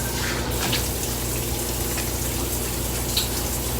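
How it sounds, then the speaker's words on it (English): Water runs hard from a kitchen tap while hands are washed beneath it, a loud, steady close-up gush with faint splashing changes that continues throughout. "Just wash my hands."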